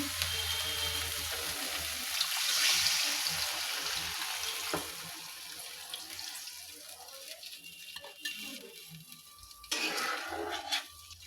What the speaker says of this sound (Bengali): এখন এখানে জল দিয়ে দেবো